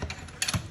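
A pressure cooker lid is set in place and closed over chicken soup, giving a few short metallic clicks and a knock in under a second, close and fairly loud, with no voices.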